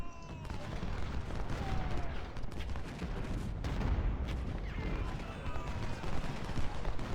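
Musket volleys crackle and pop from the lines of troops in the Civil War strategy game Ultimate General: Civil War, with dense, uneven gunfire rolling on throughout at a moderate distance.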